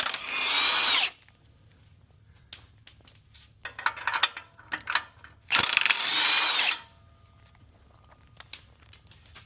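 A socket ratchet turns lubed header bolts on a 6th-gen Camaro SS, with two long bursts of fast clicking separated by shorter ratcheting strokes and clanks, close up with no talk.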